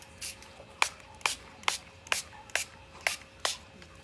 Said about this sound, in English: spray on water first